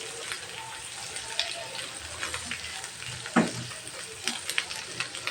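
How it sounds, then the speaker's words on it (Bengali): Beaten egg fries in a pan while being stirred and scrambled, giving a soft, steady sizzle broken by occasional scraping strokes of the spatula. "ডিমটাকে আমি ভালো করে ফেটে নিচ্ছি।"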